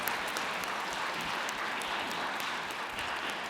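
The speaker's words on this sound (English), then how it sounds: "a round of applause for JDF, ladies and gentlemen" A convention audience at Power Morphicon applauds, a continuous wash of many hands clapping at once, steady and full from start to finish.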